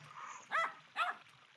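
Two short, bright yips from a chihuahua puppy in the Nintendogs game on Nintendo DS, close and clear over a faint background hum.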